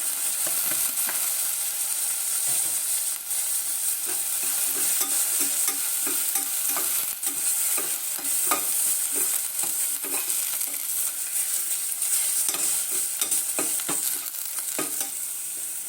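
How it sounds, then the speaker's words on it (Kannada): Onion and chopped tomato fry in a pan with a continuous soft sizzle, while frequent small scrapes and taps of stirring recur all the way through, close and fairly quiet. "ಈರುಳ್ಳಿ ಚೆನ್ನಾಗಿ ಫ್ರೈ ಆಗಿದೆ. ಒಂದು ಸಣ್ಣ ಟೊಮೊಟೊ ಅದು ಕಟ್ ಮಾಡಿ ಹಾಕ್ತಾಯಿದ್ದೀನಿ."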